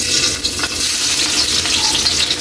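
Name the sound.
garlic sizzling as it is added to hot oil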